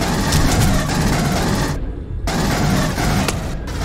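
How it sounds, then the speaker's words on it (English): Rapid automatic assault rifle fire in a first-person shooter video game, set in a ship's engine room, loud and dense bursts nearly continuous with a brief pause midway. "This AR sounds so weird."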